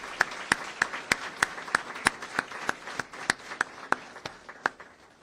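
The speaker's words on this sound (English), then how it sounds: "give these troopers and these public servants here a round of applause for their service" Scattered applause for state troopers and public servants at a news conference in Fort Myers, a small group clapping in distinct, sharp claps that thin out over several seconds.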